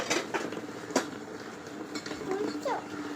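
Dishes and pots clatter during washing in a home kitchen, with sharp clinks and knocks that come irregularly alongside soft scraping and a faint voice in the background.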